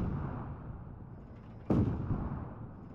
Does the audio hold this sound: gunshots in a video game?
yes